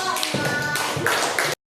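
Classroom students clap their hands for a group, a short burst of quick, close claps from several people that stops abruptly.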